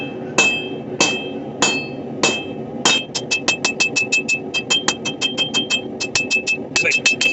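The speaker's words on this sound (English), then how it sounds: "we're going to hammer the spine end down first." A steel knife blank is hammered on its spine end, with about five spaced heavy metallic strikes followed by a rapid run of quick repeated blows, each ringing sharply and close.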